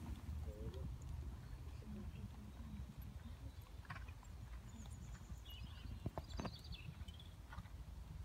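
A horse's hooves clip-clop softly during a dressage test in an arena, a faint, steady rhythm at a distance beneath low background noise.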